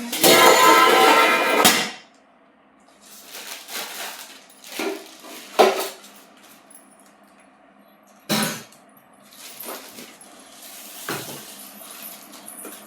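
Metal pot and lid clatter and clank as a new-style lid is fitted onto a cooking pot, with a loud burst of rattling at first, then scattered sharper knocks and clinks separated by quiet gaps.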